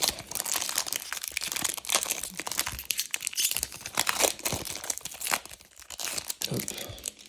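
Foil wrappers of trading card booster packs, Radiant Stars EB10 expansion, crinkle and tear nonstop up close, dense crackling and rustling with brief pauses, loud and alone.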